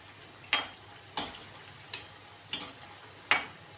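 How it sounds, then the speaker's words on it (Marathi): Bhaji frying in hot oil, turned at intervals, with five sharp clinks of a spatula against the pan over a soft steady sizzle. "मध्ये मध्ये असे हलवत राहायचं भजीना, ते कडक होत राहतात."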